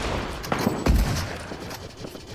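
Sniper rifle shot in Fortnite, a single sharp, loud crack with a low booming thud near the middle, set against a steady bed of in-game ambience.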